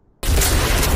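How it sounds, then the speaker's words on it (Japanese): A hydrogen-and-oxygen-filled balloon sound bomb made from a deer bladder explodes in an anime: silence, then a sudden loud, sustained roaring blast. "鹿の膀胱とかのバルーンに詰めりゃ爆発しても威力はカスだが、つまりは音爆弾。"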